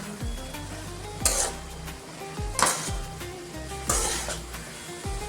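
Turmeric, chili and coriander powder being stirred in a sizzling frying pan for a long beans and potato dish. A steady sizzle runs throughout, with three distinct scrapes of a utensil against the pan.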